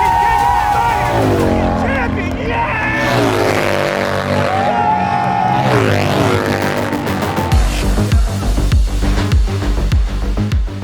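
Indian Challenger bagger motorcycles race at a King of the Baggers round in New Jersey, engines roaring loud and continuous over crowd noise, with a rising high-revving pass near the end.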